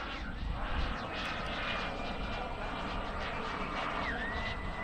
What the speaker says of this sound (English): the most recent flight that I made in a jet aircraft powered by a turbine engine